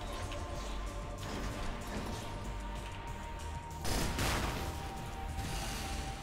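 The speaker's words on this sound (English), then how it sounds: "Two frag shots." Frag shots fired in the Cryptark video game, a couple of heavy blasts over a steady wash of in-game noise and gunfire, with a louder burst near the middle and no voice.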